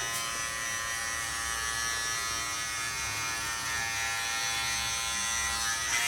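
An electric hair clipper fitted with a guard comb cuts hair with a steady, close buzzing hum that runs unbroken through the whole stretch, with no talking over it.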